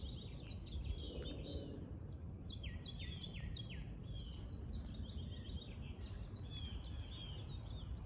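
Morning birdsong outdoors: several birds chirp and warble in bright, repeated bursts throughout, moderately near, over a steady low background rumble, with no talking.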